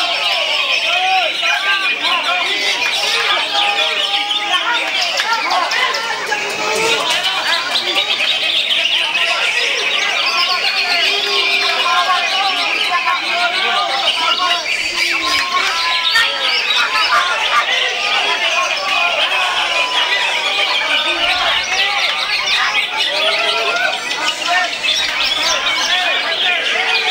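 Dense, continuous chorus of many songbirds, including Oriental magpie-robins and green leafbirds, chirping and trilling all at once at a bird singing contest, loud and busy throughout, with faint chatter underneath.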